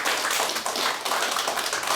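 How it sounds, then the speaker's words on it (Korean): Applause from a lecture audience, a steady dense patter of clapping hands that holds throughout at moderate level with no voices over it. "큰 박수 한번"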